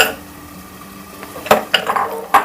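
Grated jaggery tipped into a metal cooking pot for Rajasthani laapsi, giving soft scraping and a few sharp clinks of utensil against the vessel, close and clear over a quiet kitchen background.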